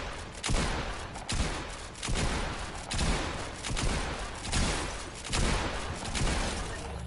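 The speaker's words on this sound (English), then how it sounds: "I'm gonna just have to shoot things." Rapid bursts of gunfire from the video game Fortnite, loud and repeated in roughly one-second waves that keep rolling without a break and no talking over them.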